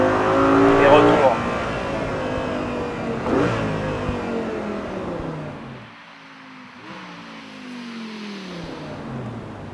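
An Audi R8 GT on a race track, its engine revving high and climbing through gears with sharp shifts, then easing off into a lower drone before building again, close and loud inside the car.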